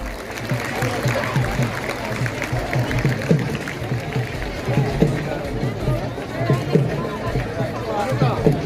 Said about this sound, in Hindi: मैं चाहूंगा कि एक बार जोरदार तालियां हमारे मुख्य अतिथि के लिए